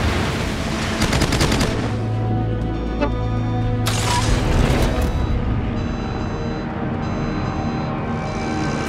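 Gunfire in the naval battle game World of Warships, with loud rapid bursts of shots and booming blasts over a constant rumble, punctuated by sharp cracks near the middle.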